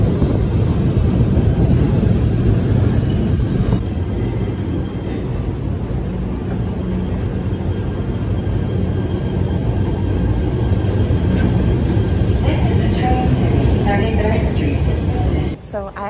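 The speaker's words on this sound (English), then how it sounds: "So I actually took the train this morning" A passenger train rolls along rail tracks on a morning commute, giving a steady, loud rumble of wheels and carriage noise that runs almost the whole time before cutting off abruptly near the end.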